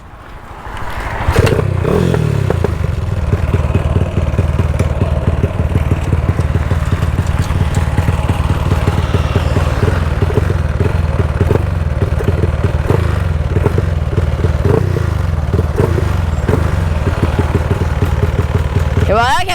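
A motorcycle engine runs loudly nearby with a rough, throaty exhaust rumble and some clattering. Voices talk over it.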